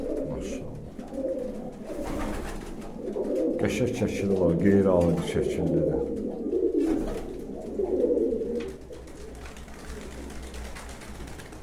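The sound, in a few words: pigeons cooing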